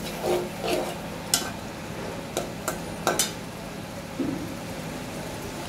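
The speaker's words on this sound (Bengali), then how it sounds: "তো অন্য চুলায় আমি মাছটা ভেজে নিচ্ছি।" Fish fries in oil on a stovetop with a soft, continuous sizzle, punctuated by several sharp clinks and scrapes of a utensil against the pan.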